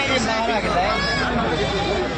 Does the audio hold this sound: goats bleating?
yes